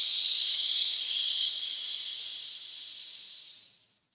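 A voice imitates a pressure cooker's hiss while breathing out, producing one steady, loud, breathy hiss that holds for several seconds, slowly fades and then stops, with no talking.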